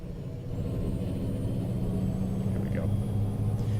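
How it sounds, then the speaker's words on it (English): A truck engine in American Truck Simulator drones with a steady low rumble, an idling hum that holds evenly throughout with faint mechanical whine above it. "I like the way this truck sounds too."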